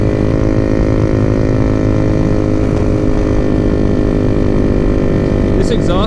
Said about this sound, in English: This exhaust is so loud that I always try and be in this lane so that I don't hear it reverberating off that freaking wall to the right of me